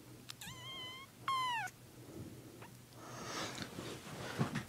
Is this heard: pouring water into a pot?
no